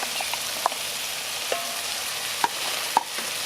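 Onion and ginger sizzling in a restored dutch oven over a Weber kettle grill, a steady dense sizzle with a few sharp clicks from stirring, no talking.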